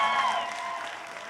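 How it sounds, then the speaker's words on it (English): Audience applause at a comic convention Q&A, a steady, dense wash of clapping that fades slightly over its short span, heard alone with no voices. "So give yourselves a round of applause."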